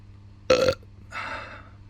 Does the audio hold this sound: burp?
yes